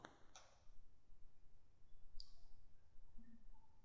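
Mouse clicks on a PDF icon in furnace simulation software, two or three faint, sharp clicks spaced apart over a quiet background hum, with no talking.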